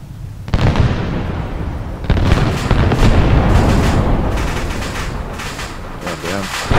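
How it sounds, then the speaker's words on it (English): An explosive charge set off with a clacker in a SEAL Team 5 combat video game gives a loud blast, then a long rumbling roar with several more crackling bursts and booms that stay dense and close. "The clacker, get ready. Alright, fire in the hole."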